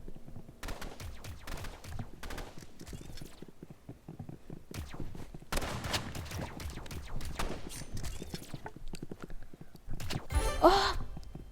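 Rapid bursts of assault rifle gunfire in the video game Rivals, sharp clustered shots coming in uneven volleys with short gaps between them, plus a brief tonal game effect near the end.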